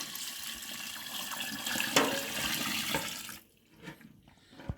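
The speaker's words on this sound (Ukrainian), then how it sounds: "Зараз я виливаю туди води, щоб було 35-36 градусів вода." Water pours steadily into a concrete vessel holding honeycomb cappings for making mead, a continuous splashing rush that stops near the end, leaving only faint trickles and clinks.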